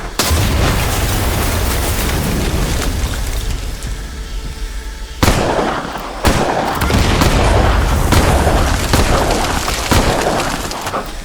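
Gunfire in the video game Sand: Raiders of Sophie: a few loud, sharp blasts punch through a dense, continuous mechanical roar and rumble, with no talk.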